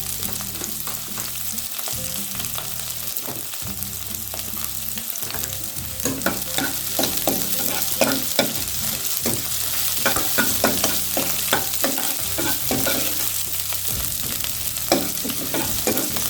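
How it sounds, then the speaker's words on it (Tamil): Onions sautéing in a pan on a low simmer for a colocasia (taro root) roast, a steady close sizzle with repeated scraping and stirring strokes throughout, no voices. "இது ஒரு பாதி வெந்ததுமே வெங்காயம் பாதி வதங்கினா போதும்."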